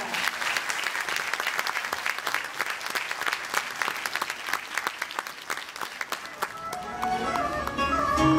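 A concert audience claps loudly and steadily for a singer, a dense wash of many hands that thins out near the end as a sustained musical tone begins to rise.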